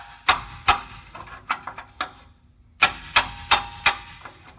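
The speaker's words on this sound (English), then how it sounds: "We'll tap with our hammer" A hammer taps a socket onto a rusted, stuck oxygen sensor on a Ford: about a dozen sharp metallic clinks in two uneven runs separated by a short pause, close and distinct.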